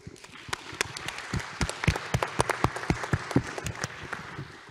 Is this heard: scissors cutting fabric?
no